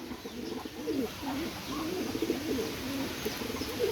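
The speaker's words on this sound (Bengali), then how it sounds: "এই যে একটা কেটিএম নর কবুতর দেখতে পাচ্ছেন" A male Pakistani high-flyer pigeon coos in a steady run of low rolling phrases, close and moderately loud over a faint background hiss, with no talking.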